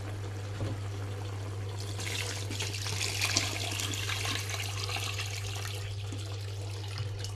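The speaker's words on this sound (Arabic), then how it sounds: "مية ساقعة من الحنفية" Cold tap water poured from a faucet into a pan of chicken cooking with tomatoes, a steady hissing pour running for several seconds at moderate level, with a low hum underneath.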